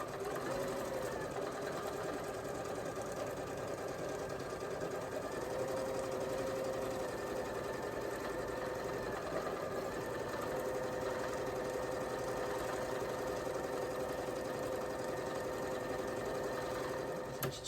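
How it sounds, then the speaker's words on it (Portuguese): Domestic sewing machine stitching a seam with a tight stitch and polyamide thread, a continuous steady whirring hum, close and uninterrupted with no talk. "Então, eu vou fazer essa costura"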